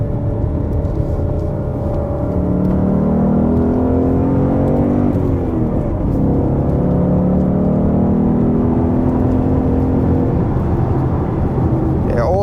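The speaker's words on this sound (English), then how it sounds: "Third gear really picks up the speed because it's got such long legs, and then third gear just takes you right out." A 2023 Ford Mustang GT CS with a manual gearbox accelerates hard in third gear, its V8 engine note climbing steadily, easing briefly, then rising again in a loud continuous drone heard from inside the car.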